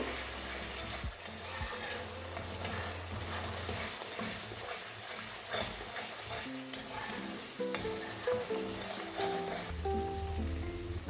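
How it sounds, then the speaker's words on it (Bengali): Spices frying in hot oil in a pan for a tamarind fish curry, stirred steadily so a continuous sizzle runs under repeated scraping strokes, close and even, no voices. "এখন আমি সমস্ত মশলা খুব ভালো করে নাড়িয়ে নেবো"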